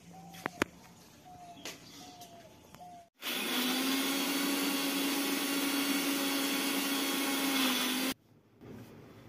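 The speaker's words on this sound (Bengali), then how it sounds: "এখানে দেখো রসুন আর লঙ্কা দিয়ে এটা মিক্সার মেশিনে বেটে নেব।" A kitchen mixer grinder whirs steadily for about five seconds, grinding coriander leaves with garlic and chili, starting and stopping abruptly between quieter stretches with faint bird coos in the background.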